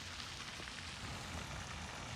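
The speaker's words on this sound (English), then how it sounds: "And yes, it is raining." Steady rain falls outdoors during a catfish-bait fishing trip, a faint, even hiss of drops on surfaces throughout, with no voices.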